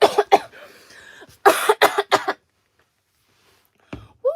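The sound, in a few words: hard loud cough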